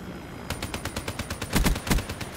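Rapid automatic gunfire from Black Ops 3 aimed at a mannequin, a dense rattling burst of evenly spaced shots with a few heavier, louder cracks near the end.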